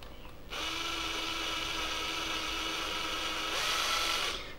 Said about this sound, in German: Dazu nehme ich einen kleinen Bohrer.